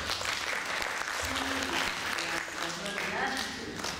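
Audience clapping during a spiritual discourse, a moderately loud wash of applause with a voice or murmur faintly audible underneath, lasting a few seconds.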